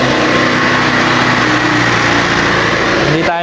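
A motorcycle engine with an idle fault runs wild at about 4,000 RPM with no throttle applied, a loud, close, steady high-revving drone that cuts off abruptly at the end.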